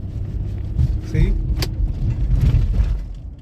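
A 2009 Nissan Murano SL pulling away from a stop on a test drive, a low steady engine and road rumble heard from inside the cabin under speech.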